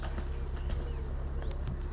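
Soft pigeon coos sound near the River Avon at Evesham, faint calls over a low steady rumble of flowing water and outdoor background.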